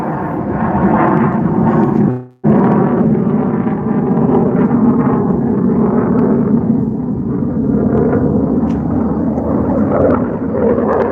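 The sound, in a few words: jet aircraft flying overhead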